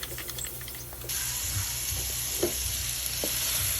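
Ground pork fries in a pan with a soft, continuous sizzle that brightens after a moment, broken by occasional stirring clicks, and no one speaks.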